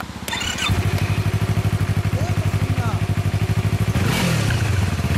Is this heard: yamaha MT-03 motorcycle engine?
yes